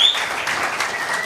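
Audience applause at a sales talk, heard as a brief, dense wash of many hands clapping at once, fairly loud and steady for just over a second, with no voices.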